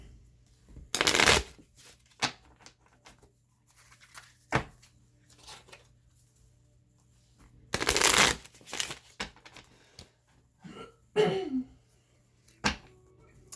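Holographic Rider-Waite tarot cards shuffled close up in several separate bursts of riffling and flicking, with soft handling noises between them and no talk.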